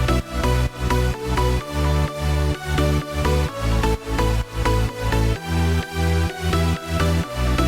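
An EDM drop with layered lead synths, including saw-based and aggressive leads, plays together over heavy bass in a loud, steady pumping rhythm with regular beat-driven pulses and no talk.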